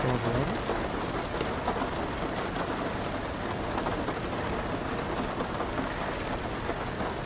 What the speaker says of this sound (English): It shouldn't be that loud. It's literally overpowering. The rain.